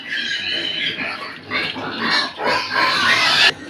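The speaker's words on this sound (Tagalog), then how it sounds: "Ito naman yung ang dami baboy oh." Pigs being fattened on a farm grunt and squeal in a continuous, close, busy chorus, with faint voices in the background.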